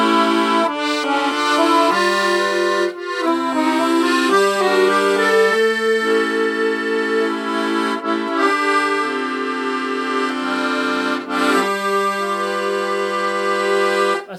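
Stradella bass accordion playing the chord progression of a song, sustained reedy chords changing every second or so in a steady simplified pattern, close and clear with no talking.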